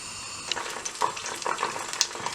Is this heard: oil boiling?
yes